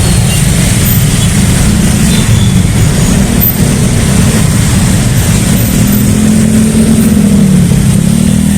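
Busy Jakarta street traffic with motorcycles and cars passing near a park construction site, a steady loud engine rumble and droning motorbike revs that rise and fall throughout with no talk.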